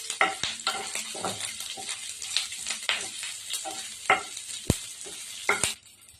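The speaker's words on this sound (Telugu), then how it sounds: "ఇప్పుడు బాగా వేపుకుందాము." Garlic, green chilies and curry leaves frying in hot oil, a steady sizzle broken by sharp spattering pops and stirring scrapes, close and fairly loud with no voices.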